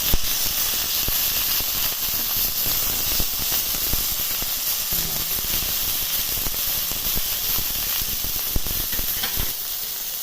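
A salmon fillet sears in a hot pan, turned to brown on its second side, giving a steady, close sizzling hiss that holds throughout with only small crackles and no talk.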